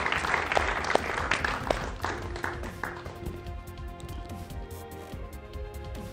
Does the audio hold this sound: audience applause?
yes